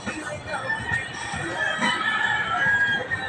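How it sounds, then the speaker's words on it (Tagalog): Chickens cluck and crow steadily in the background, a busy farmyard murmur with faint voices mixed in throughout. "Marami kaming manok dito"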